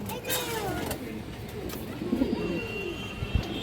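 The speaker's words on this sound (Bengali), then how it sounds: "কালো মুসলদম কবুতর আছে" Black Muslodom pigeons give soft low cooing in a loft, close by, with people talking over and around the calls and a brief thump near the end.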